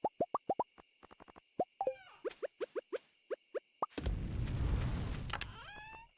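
Feeding a furnace in the Stardew Valley video game: a quick run of crisp, bouncy plops and clicks, then a loud rushing, roaring burst lasting about a second before more pinging tones.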